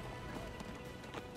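Mongol horses racing at a run, a steady clatter of hooves with scattered thumps across a short, busy stretch of open-country commotion.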